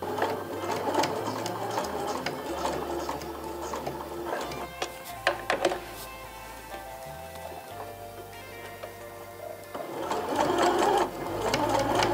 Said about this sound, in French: Maintenant, nous allons faire une couture à 2 mm du bord.